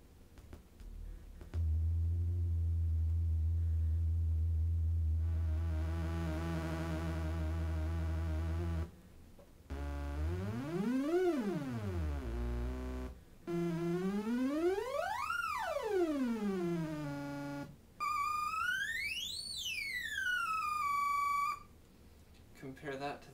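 A synthesized tone from a Prism laser guitar's skew control, rich in harmonics, first holding a low buzzing pitch, then sweeping up and down in several swooping glides, separated by brief pauses.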